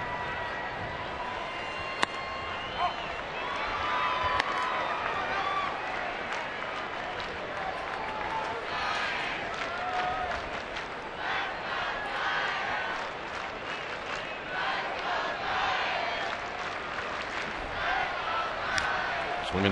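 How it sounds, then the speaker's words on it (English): A baseball stadium crowd claps and cheers for a player during a Cincinnati at San Francisco game, a steady wash of distant applause with a commentator talking over it. "Now he gets the applause."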